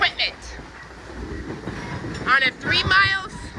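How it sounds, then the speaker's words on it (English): A 1950s-era locomotive pulls older railroad cars along a short stretch of former East Tennessee and Georgia Railroad main line at a Chattanooga railroad museum, rumbling and clattering nearby with brief whistle-like squeals. "see a 1950s era locomotive pulling pre-1950s era equipment"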